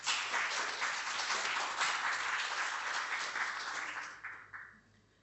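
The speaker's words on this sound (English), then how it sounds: "please give yourselves a big round of applause for everyone who's made today possible" A large gathering at a memorial event breaks into sustained applause that holds steady, then thins out and fades over the last second.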